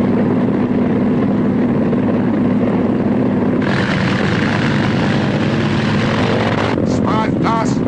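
A small propeller airplane engine drones loudly and continuously under throttle, its roar thickening partway through as power increases, while voices talk over it.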